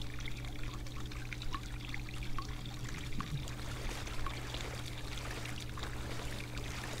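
Water flowing in the horror game Cry of Fear, a steady pouring, trickling rush with scattered splashes and drips over a low constant hum, moderately close and unbroken throughout.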